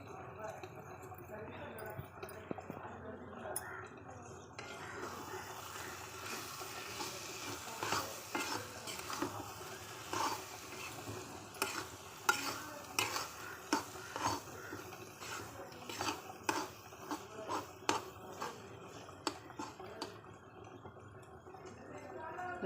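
Tomato thokku with jaggery sautéing in a pan, a steady low sizzle broken by repeated clicks and scrapes of a spoon against the metal, faint and close, under intermittent talk.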